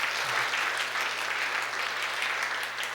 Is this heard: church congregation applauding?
yes